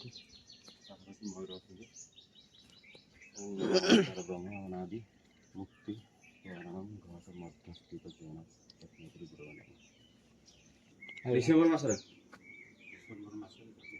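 A peacock calls out twice at a temple grounds, with two loud, harsh bursts standing out against faint background voices and ambient noise.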